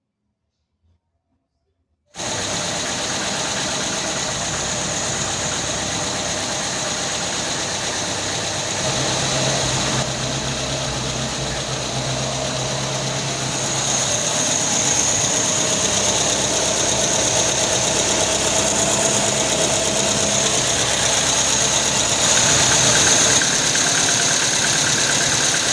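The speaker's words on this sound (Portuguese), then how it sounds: "esse barulho aí é do motor do carro mesmo" A Ford Del Rey engine idles steadily after a brief silent start, with a worn timing chain rattling and lower-end knocking running continuously and loud throughout.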